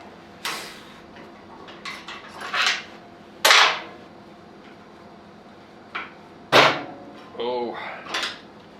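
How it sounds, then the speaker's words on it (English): Clamps being loosened and removed from a glued workpiece in a metal shop, a series of sharp clanks, ratcheting scrapes and metallic knocks coming in irregular bursts with quiet gaps between them. "Let's take the clamps off and see how badly this turns into a banana."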